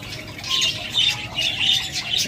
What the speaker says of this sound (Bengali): ককাটেল পাখি ডিমে আসতে এরকম অ্যাগ্রেসিভ হয়ে যায়।